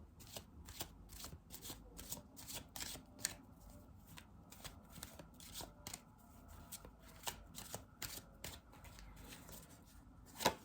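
Tarot cards shuffled by hand, a quiet, steady run of crisp riffling and soft slapping strokes in an irregular rhythm, close up with no talking.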